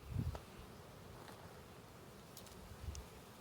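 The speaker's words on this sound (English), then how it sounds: "shaking these bees loose out of here" Faint, steady buzzing of a honey bee swarm being shaken loose, with a few soft low thumps, continuous and distant, no voices.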